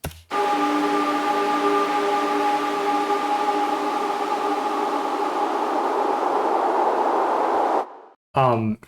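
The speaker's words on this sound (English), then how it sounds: "the sound that you're going to hear is like this detuning kind of sound" Dense, washy detuned noise built from widened spectral bands, a sustained hiss with faint steady tones inside it holding for several seconds, then cutting off abruptly before a short burst returns.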